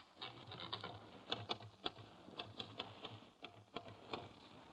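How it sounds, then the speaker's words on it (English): Typewriter keys clacking in an irregular, fairly quiet burst of strikes in an indoor room scene, with no talk over the typing. "Now, let me at that typewriter for a minute."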